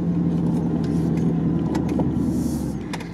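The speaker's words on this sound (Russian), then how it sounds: "Так, ну Хаммер пытается покинуть оффроуд." A Hummer engine labours to climb out of sticky off-road ground at a quarry: a continuous, fairly loud low rumble that holds steady and then eases slightly toward the end, with no talk.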